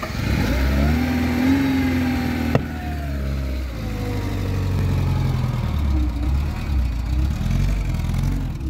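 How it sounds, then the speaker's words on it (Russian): A car running on a freshly fitted replacement engine revs and pulls away, its mid-pitched engine note rising steadily and then holding a loud, continuous drone close by. "Короче, Андрюха вкинул новый мотор, сейчас пробует ехать на нем."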